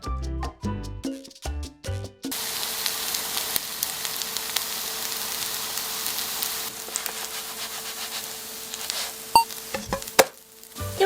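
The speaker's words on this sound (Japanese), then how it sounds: "丸く形を整えて反対にも焼き目がつくまで焼き" A few clattering knocks, then a steady soft sizzle of bitter melon batter frying in a pan, continuous and close, with occasional pops near the end.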